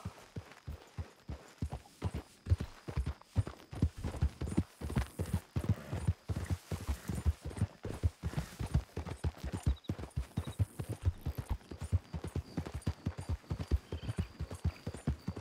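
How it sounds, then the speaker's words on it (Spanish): A horse gallops in Red Dead Redemption 2, its hooves pounding in a fast, steady, repeating rhythm of close, loud thuds across the whole stretch, with an occasional faint snort and no talk over it. "¡Mira cómo corre mi caballo!"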